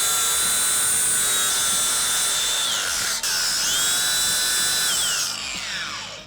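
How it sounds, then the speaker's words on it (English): A grinder works steadily on a welded steel plate on a driveshaft for a custom Tesla-powered pickup, giving a loud, sustained high whine that dips briefly midway and winds down in pitch at the end. "maybe I'll just grind it this way and put one plate"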